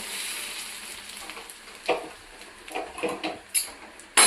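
Very hot oil poured into sev flour sizzles and crackles in short uneven bursts that grow more frequent toward the end, fairly close and alone.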